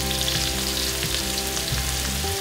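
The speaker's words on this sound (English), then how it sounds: "Put some ginger in there. Really infuse that oil with ginger." Ginger sizzling hard in hot oil with onion, a loud, steady, close-up frying hiss that runs unbroken throughout.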